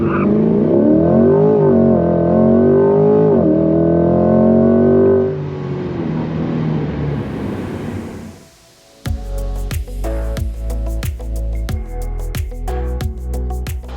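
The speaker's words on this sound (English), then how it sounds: "Hard brake, hard throttle pedal there, Charlie." C8 Corvette on a track at a performance driving school: a loud, steady engine drone with rising revs for several seconds fades away, then sharper repeated engine bursts and clicks follow as the car brakes hard and accelerates again.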